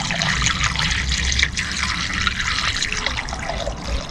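Honda pre-mixed green coolant pours steadily through a funnel into the radiator of a Honda VFR800 VTEC motorcycle, a continuous close trickle and gurgle with no talk.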